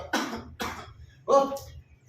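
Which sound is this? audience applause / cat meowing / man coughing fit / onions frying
man coughing fit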